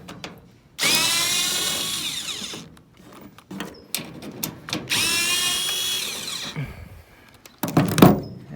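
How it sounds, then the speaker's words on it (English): A Snap-on power drill fitted with an 8mm socket removes a tail light from a 7.3 Powerstroke truck, giving two long, loud whirring runs. Shorter clicks and clunks of the socket and fastener come between and after the runs. "I have a 8mm socket I'm gonna use on my snap-on buzzy drill thing to remove the tail light"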